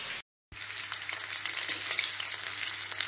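Onions and sausage frying in a pan make a steady close crackling sizzle that cuts out for a moment near the start, then resumes evenly without talk.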